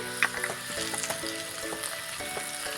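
Kashmiri chili dropped into hot oil, sizzling and crackling steadily up close with a light stirring scrape, no voices.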